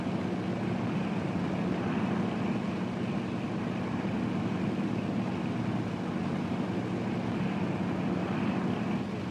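A Supermarine Seafire aircraft lands on a carrier deck during 1942 Royal Navy flight deck operations. A loud, steady propeller-engine roar and drone fill the whole stretch with an even, unbroken wash of noise.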